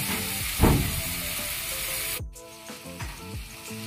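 Pork skewers grill with a continuous, close sizzle and crackle, with occasional scraping or turning sounds and no voices.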